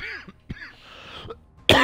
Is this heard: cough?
yes